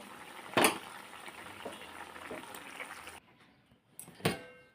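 A cauliflower and potato curry simmers in a pan with a soft, steady bubbling, broken by a couple of sharper knocks.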